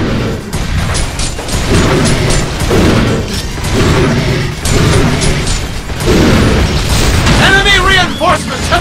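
Heavy machine gun fire in the shooter Binary Domain, loud sustained bursts with booming impacts and mechanical clatter, punctuated by short pauses and a brief electronic chirping near the end.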